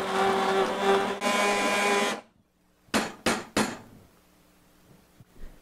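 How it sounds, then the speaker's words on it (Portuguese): Hand mixer blending cooked apricot jam, two long loud whirring bursts followed by three short pulses after a pause, then quiet. "Eu vou usar um mixer, mas você também pode colocar no liquidificador."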